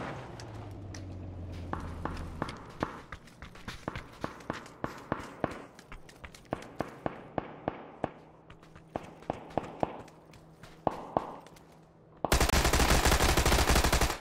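Gunfire in PUBG Battlegrounds: a long series of sharp shots, some in quick bursts and some spaced apart, ringing out at moderate distance over quiet ambience, ending in a sudden burst of loud static-like noise.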